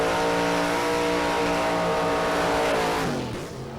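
A drag racing car at Santa Pod in 1994 runs its huge engine, a loud sustained roar with steady harmonic drone that drops in pitch and fades slightly at the end as it passes.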